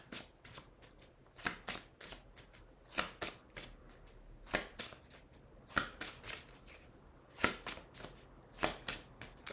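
A deck of oracle cards is shuffled by hand for a reading, giving repeated crisp riffling bursts in a steady rhythm, close and fairly quiet, with no talking.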